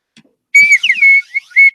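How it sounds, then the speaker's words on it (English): A defective shrill whistle blown in several uneven bursts, wavering and sputtering in pitch, close and loud, with a few soft taps before it starts. "My defective whistle."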